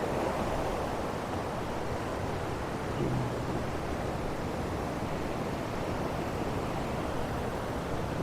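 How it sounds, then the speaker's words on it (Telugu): The Sunnapugedda waterfall near Srikakulam roars as a steady, dense rush of falling water, close and continuous throughout with no voices. "ఇదే వాటర్ ఫాల్స్ సున్నపుగడ్డ"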